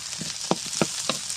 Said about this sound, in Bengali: পেঁয়াজ রসুন দিয়ে দিলাম মাছটা ভাজা হয়েছে পেঁয়াজ রসুনটাও বেজে নেব